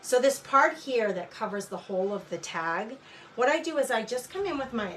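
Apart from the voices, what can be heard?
No everyday noise stands out behind the speech.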